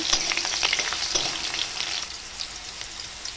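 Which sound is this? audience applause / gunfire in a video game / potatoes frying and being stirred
potatoes frying and being stirred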